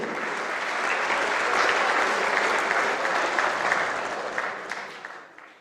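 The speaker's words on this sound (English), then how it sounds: "Can we please have a big round of applause for Team Egypt?" Audience at the opening ceremony of the WSF Under-23 World Squash Championship gives a big, sustained round of applause for Team Egypt, swelling and then tapering off near the end.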